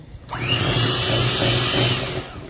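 Electric hand mixer whirring steadily through a rich, buttery cake batter, starting abruptly after a brief pause and running loud and close without any talk.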